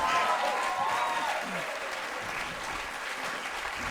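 A crowd at an improv comedy show breaks into steady applause for the performers after a scene, many hands clapping at once with some voices rising briefly within the noise.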